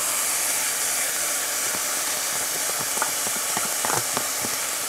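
Rice tipped into a hot pan for fried rice sets off a steady, loud sizzling hiss, with a scatter of small ticks and crackles near the end.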